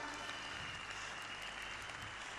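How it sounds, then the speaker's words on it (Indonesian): A room full of people claps warmly at a business gathering, a continuous even wash of applause, fairly distant and steady, with no talking over it. "Berikan tepuk tangan buat meriah buat beliau."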